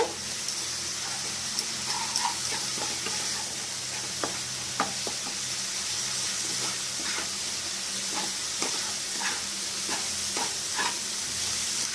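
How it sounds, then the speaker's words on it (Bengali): Chili and turmeric powder sauté in a pan with a splash of water for a simple fish curry, a continuous close sizzle broken by scattered light scrapes and taps of stirring. "এর মধ্যে হাফ চামচ লঙ্কা গুঁড়ো, হাফ চামচের একটু বেশি হলুদ গুঁড়ো, এটাকে কষিয়ে নেব।"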